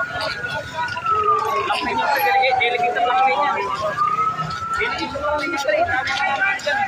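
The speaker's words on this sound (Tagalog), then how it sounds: "Isang truck lang na bumbero ang dumating dito." A fire truck siren wails, rising and falling slowly in the distance, at a house fire in Rodriguez, Rizal, while a crowd of people chatter and murmur nearby.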